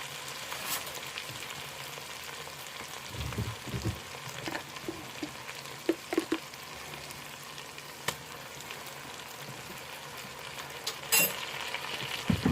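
Garlic, a heaping tablespoon, frying in a pan gives a faint, steady crackle with scattered soft pops and light clinks throughout, low in level and with no talking.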